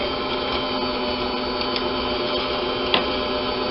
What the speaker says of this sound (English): I like using a stand mixer because it makes it a lot easier.